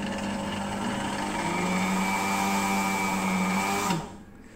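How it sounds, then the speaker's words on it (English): A Chefmate MC022 cooking machine grinds a cinnamon stick with a loud, steady motor whir and rattling blade noise that runs continuously, then winds down and stops near the end. "So within this 19 seconds, it will break down the cinnamon stick."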